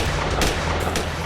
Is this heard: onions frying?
no